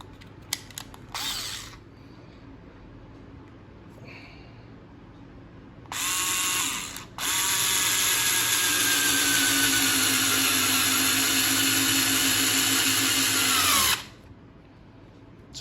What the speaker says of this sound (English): Now I'm going to show you sample driving of this screw here